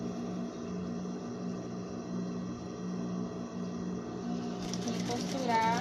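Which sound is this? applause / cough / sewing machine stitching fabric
sewing machine stitching fabric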